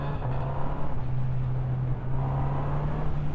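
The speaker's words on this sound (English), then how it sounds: "you can get the revs up, get it going, get it singing" A 2023 Honda CB1000R Special motorcycle engine runs with a steady, throaty drone mixed with rushing wind noise, holding an even pitch throughout with no one speaking.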